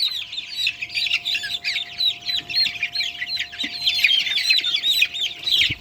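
Young Sonali chickens about twenty days old, kept in a poultry house, give a dense, continuous chorus of high peeping and chirping calls, steady and fairly close throughout with a faint low hum underneath.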